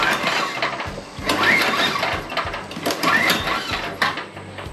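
Repeated pull-starting of a Craftsman DT tiller engine with the spark plug removed: two long rasping recoil-cord pulls, each a whirring mechanical drag, close and fairly loud.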